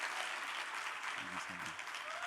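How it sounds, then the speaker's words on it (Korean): A church revival-meeting audience applauds steadily for a workshop participant, dense, even clapping filling the whole moment, with faint voices murmuring underneath. "박수 쳐주세요."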